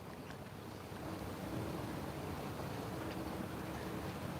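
Sea waves washing on a shore during an outdoor qigong and yoga class, heard as a steady low rushing wash that swells slightly after the first second, with wind noise on the microphone and no talking.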